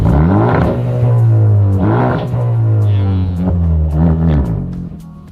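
A Honda Civic Type R FK2 on a dyno revs hard in repeated rising pulls, loud and close, with the engine note climbing and dropping several times before easing off.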